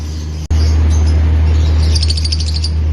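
Violet Euwing Fischer's lovebirds in an aviary give bright, rapid chirps and short tweet series over a constant low hum, fairly close, with no voices.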